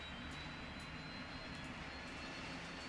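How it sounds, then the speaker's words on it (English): APU on a Flight Factor 757 in the X-Plane 12 simulator, a steady low turbine whine and airy roar holding at an even, moderate level throughout, with no speech. "we'll start the APU now, get some APU bleed on there"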